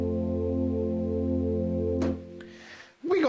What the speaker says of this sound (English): We are going to use the chorus of the Juno, which is amazing. The chorus number 2,